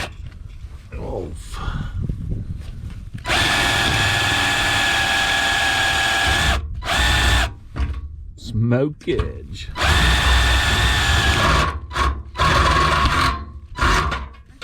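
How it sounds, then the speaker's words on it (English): A power drill with a 1/4-inch bit bores rivet holes in a 1991 Oldsmobile Ninety-Eight Touring Sedan, loud high whining bursts starting and stopping several times, with someone speaking briefly between runs. "Using a 1/4-inch drill bits"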